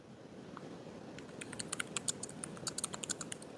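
Light tapping on a computer keyboard starts sparsely, then picks up into a quick run of close, crisp keystrokes over a soft background hum.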